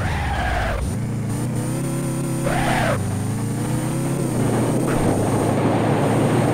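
Prerunner Sunburst truck engine in BeamNG Drive, loud and close, revving up and dropping back in several surges with gear changes, then settling into a steady hum.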